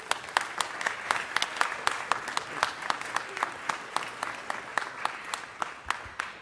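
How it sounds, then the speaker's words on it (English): Applause from the audience at a Los Angeles City Council meeting welcoming a councilwoman-elect: crisp, evenly paced claps from a modest crowd, steady throughout with no talking over it. "give her a big, big round of applause and a warm welcome"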